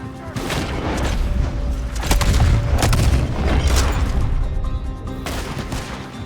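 Red Dead Redemption 2 shootout with repeated loud gunshots and heavy booms in an irregular rhythm, close and layered over a constant rumbling background, with voices heard faintly amid the firing.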